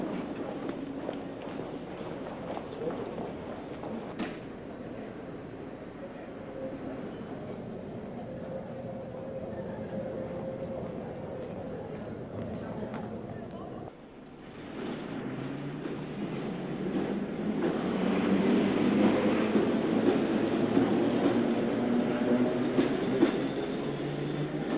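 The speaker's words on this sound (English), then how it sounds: "were operated by trains of F stock with their distinctive oval front windows" A London Underground F stock train with oval front windows runs on the rails with a continuous rolling rumble, steady at first, then louder and fuller after a brief dip in the second half.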